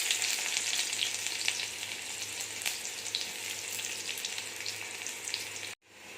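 Onions fry in hot oil in a kadai, giving a dense, steady hiss and crackle close up that runs for several seconds with faint stirring, then cuts off abruptly near the end, with no voices.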